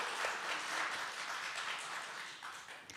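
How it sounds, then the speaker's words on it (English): An audience applauds throughout, a dense steady wash of clapping that fades slightly toward the end, heard from a distance in a hall. "May we have a round of applause for her,"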